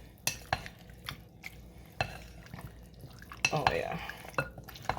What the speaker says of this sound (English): I'm just gonna mix this in, and I'm gonna leave it there for a little bit